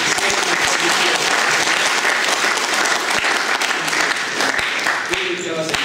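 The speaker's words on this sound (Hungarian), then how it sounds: "Úgyhogy egy nagyon nagy tapsot," Audience at a gathering of an Olympic friends' circle hosting wrestlers breaks into loud, sustained applause, dense and continuous with a few sharper individual claps, lasting the full six seconds.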